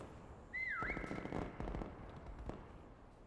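Whistle sounds in a video game, a bright rising-and-falling pitched whistle near the start followed by crackling, popping bursts like fireworks, fairly faint and distant with no talking.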